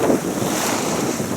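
Strong wind roars steadily at sea aboard a sailboat on the Baltic, a dense, continuous rushing with buffeting on the microphone and wave wash mixed in, with no voices.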